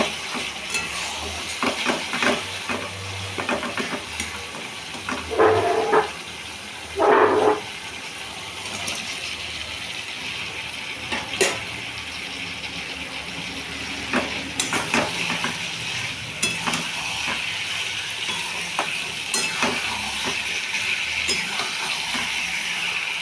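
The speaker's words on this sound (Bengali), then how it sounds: "এবার হচ্ছে আলুটাকে ছেড়ে দেবো এটার মধ্যে" Potatoes dropped into hot oil for a fish curry give a steady, loud sizzling hiss, with a couple of brief sharper bursts of crackle partway through as the frying continues.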